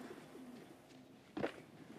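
A pigeon coos softly at a racing pigeon coop, with a couple of faint, low murmuring calls and a brief louder flutter-like burst against quiet background.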